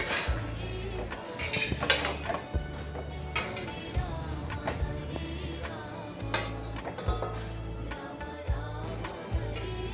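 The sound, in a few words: covering the cooking pot with a lid and stirring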